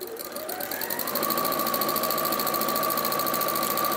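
An Elna sewing machine top stitches fabric, its motor whirring up to speed and then running in a fast, even mechanical buzz, near and steady with no voices.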